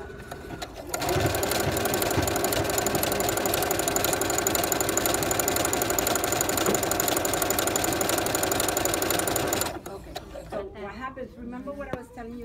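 A sewing machine runs a stretch stitch in one steady, loud mechanical whir for about nine seconds, then stops, and a person talks afterward.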